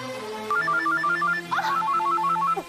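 A phone rings with a melodic electronic ringtone of quick repeating note runs, loud and close, playing continuously with no one talking over it.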